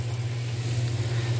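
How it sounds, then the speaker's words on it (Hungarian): A small truck's engine running at a construction site in Limonal Cahuita, Costa Rica, a steady low hum with a constant drone and a light rattle, close and unchanging. "A kis teherautó."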